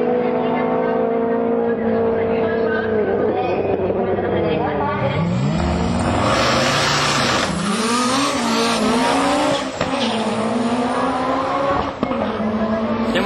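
HKS Kansai drag car, a mid-engined Toyota MR2 with a 3S engine, launching at a drag meet in Sendai, loud engine climbing through gear changes with tire squeal, close and continuous.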